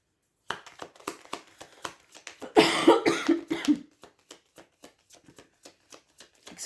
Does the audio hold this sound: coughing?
yes